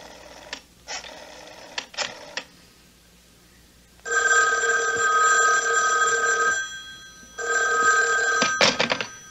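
An old-style telephone bell rings in a radio drama, loud and close, in short repeated bursts and then two longer sustained rings, before the handset is grabbed with a clatter.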